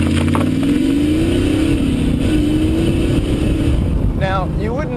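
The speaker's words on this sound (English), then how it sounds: "the sound is wonderful. The Flowmaster I got on the back of this thing just is fantastic" Rumbling V8 of a Chevrolet Camaro Z28 through a Flowmaster exhaust, a steady loud drone while cruising on a twisty road, with wind noise and a voice talking over it.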